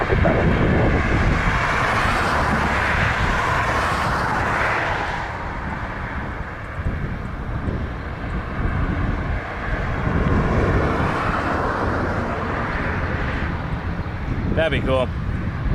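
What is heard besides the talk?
Air Transat airliner landing on runway 24 right at Toronto Pearson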